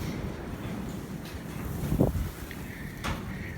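Strong wind buffets the microphone in rough, rumbling gusts, with a louder blast midway and no talking.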